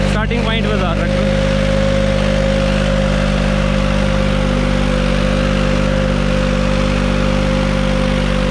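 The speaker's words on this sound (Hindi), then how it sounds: "न्यू हॉलैंड 3630 प्लस ट्रैक्टर है भाई" A New Holland 3630 Plus tractor with two harrows idles steadily and loudly nearby in a village setting, a constant low engine drone with a voice briefly heard at the start.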